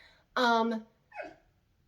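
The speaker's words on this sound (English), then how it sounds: "If you can hear my dog crying outside" A dog whines in a short, high, wavering cry, then a second briefer whimper follows after a pause, heard from a little distance.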